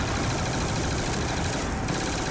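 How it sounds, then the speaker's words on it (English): A light machine gun fires continuously in a survival video game, a dense, loud, unbroken rattle with no pauses. "I'll use my ray gun while you use your light machine gun"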